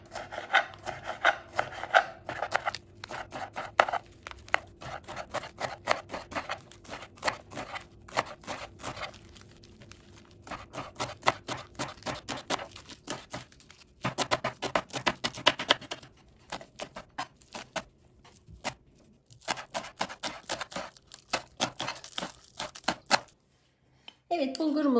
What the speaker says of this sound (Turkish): Şimdi yeşilliklerimizi ince ince doğrayalım.